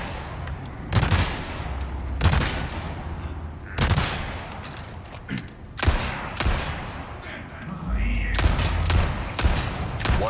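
Bursts of gunfire from the Resident Evil 4 Remake, with sharp shots recurring every second or two during a boss fight, loud and close, over a steady in-game background rumble.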